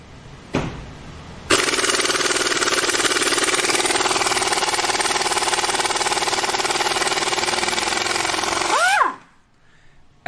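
A Snap-on PT850 air impact wrench runs on shop air at about 140–145 psi, hammering loudly and continuously for roughly seven seconds before cutting off abruptly, preceded by a brief trigger blip.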